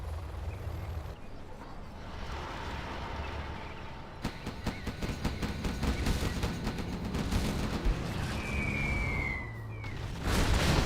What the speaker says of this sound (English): Artillery now coming in from Big SiZe.